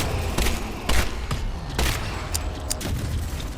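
Shots ring out in the horror game Bleak Haven on an island, a steady series of sharp reports roughly every half second over a dense background of combat noise.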